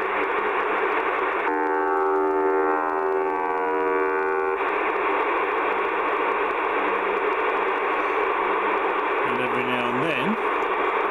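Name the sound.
over-the-horizon radar signal on 40m shortwave radio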